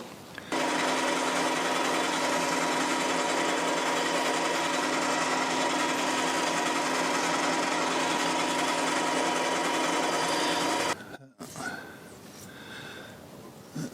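A drill held in a milling machine bores 6mm holes, making a steady, loud, continuous whine for about ten seconds before it stops abruptly, followed by faint workshop noise.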